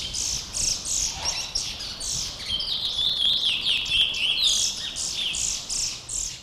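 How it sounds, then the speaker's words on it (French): Picolettes, small songbirds prized in French Guiana, chirp inside a home, a rapid series of thin, high tweets and trills repeating close by against a low background hiss. "des picolettes, de petits oiseaux chanteurs très prisés en Guyane"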